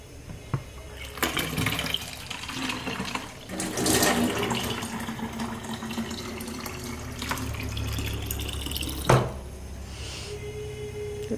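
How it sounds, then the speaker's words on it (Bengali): Water runs from a tap beside a basin into a container, a continuous rushing pour with a few knocks and a final clunk near the end. "জল ভরে নিলাম"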